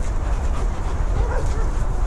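A rescued puppy barking and whimpering outdoors, loud and close, with short yips and whines repeating over a steady low rumble of background noise.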